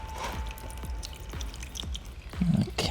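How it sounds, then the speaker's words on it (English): Water drains from a drain valve into a pan, heard as a series of close, hollow drips and small splashes in an irregular rhythm that grows into a heavier pour at the end. "And oil, in this case water, comes right out into the pan."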